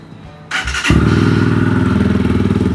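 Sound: GPX Razer 220 motorcycle engine and Akrapovic exhaust

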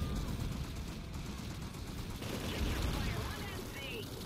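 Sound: gunfire from the video game Planetside 2

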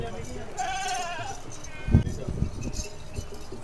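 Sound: goats bleating

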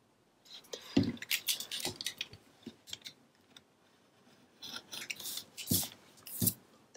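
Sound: scissors trimming paper

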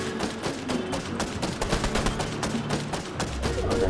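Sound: gunfire in Fortnite video game

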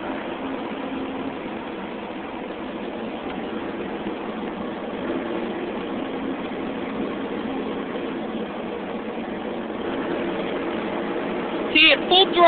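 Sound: 315C L engine idling and running rough

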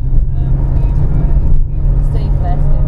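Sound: Nissan Micra engine revving high in first gear on mountain climb

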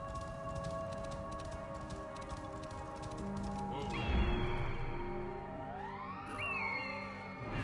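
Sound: horse in video game Assassin's Creed Origins

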